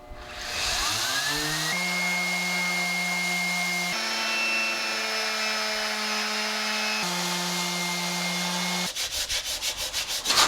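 A power sander works wood at a boatbuilding shop where deck beams are being made, running steadily and loudly for most of the stretch with pitch shifts, then breaking into a choppy, pulsing rhythm near the end.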